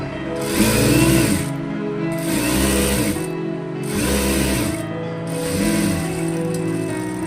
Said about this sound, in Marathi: आता तर आपण आता शिलाई मारून घेऊया